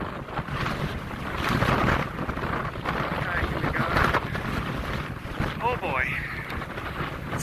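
Strong storm wind buffets the microphone at a sandy jetty in Semaphore, South Australia, a loud continuous roar with gusts swelling and easing throughout, while a voice talks over it.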